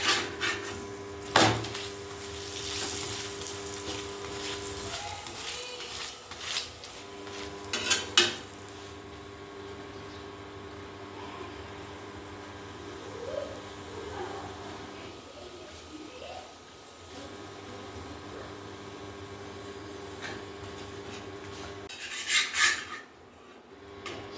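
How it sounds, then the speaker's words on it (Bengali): An aloo paratha fries in oil in a pan over a medium flame and is turned from side to side with oil spread over it. A steady close hiss runs throughout, broken by scraping and light clatter of the turner against the pan. "তেল দিয়ে এধার ওধার উল্টে পাল্টে ভালো করে ভেজে নেব।"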